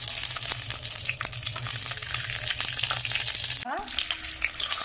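Whole spices, bay leaf, dried and green chilies, cardamom, clove, cinnamon and ginger fry gently in oil on low heat, a steady close crackle with scattered pops and occasional utensil taps, plus a brief rising squeak near the end.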